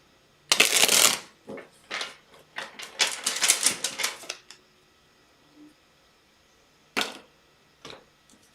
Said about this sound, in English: I cut the deck and only 3 cards fell off the bottom of the deck